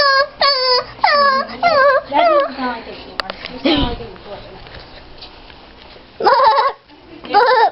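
A person imitates a goat's bleat with a voice, giving a series of quavering, wavering cries in quick succession, close and loud, with more bleats after a pause.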